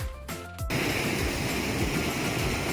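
A steady, close waterfall roars loudly and continuously after a brief quieter moment, with full broadband rushing water and no voices, heard outdoors on a snowy snowshoeing outing.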